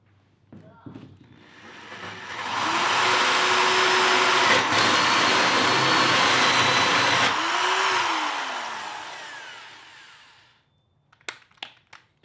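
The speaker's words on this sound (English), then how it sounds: "Be careful when you're using these hole saws, man." A hole saw bores through a PVC bed platform, giving a steady broadband whining grind for about eight seconds, with the tone sagging and recovering as it cuts, followed by a few sharp clicks.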